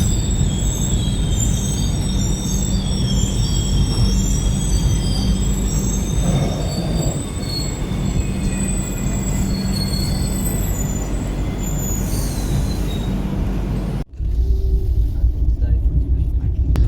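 A passenger train runs on after pulling out of Gwalior station, a steady loud rumble of rolling wheels with drawn-out squealing from the rails, heard from on board with faint voices in the background and a sharp shift in tone near the end.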